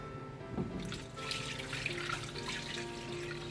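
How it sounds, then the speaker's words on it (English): Water pours from a tap into a cooking pot for a Guyanese metemgee with coconut milk, a soft steady splashing and trickling heard close up with no talk. "We're just going to add a little bit of water."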